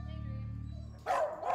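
Rescue puppies bark in two short, sharp bursts, close and fairly loud, following a steady low mechanical hum.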